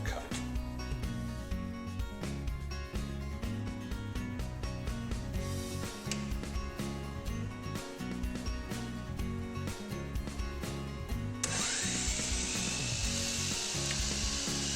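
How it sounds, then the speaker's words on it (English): A miter saw cutting through wood, heard as a continuous dense whine with rapid gritty texture that stays steady and moderately loud for the whole stretch, brightening near the end, with no speech. "After the saw blade is cut through the material, hold the saw in the down position."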